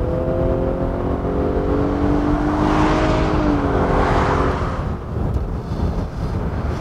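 Infiniti QX60 3.5 AWD SUV accelerating hard, a steady engine drone with rising harmonic tones that climb and then fade, heard from inside the cabin over continuous road and wind noise.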